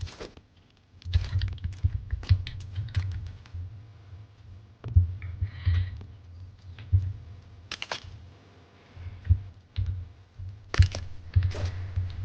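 Computer keyboard keys pressed in short clustered bursts while building a drawbridge in LEGO Fortnite, with soft clicks and pauses between runs of typing under a low steady hum, no talking.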